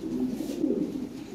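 Lahore pigeons give a low, continuous cooing rumble, close and steady for a moment with no voices.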